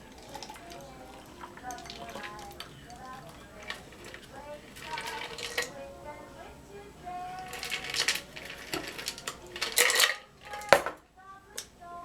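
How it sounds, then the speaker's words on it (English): A cocktail with small ice chunks is poured into a Collins glass, giving clinking, rattling ice and glassy knocks that grow louder and busier toward the end, with a voice speaking over it. "It says to pour into a Collins glass, which I have here. I'll have it open a bit so some of the smaller ice chunks could go in."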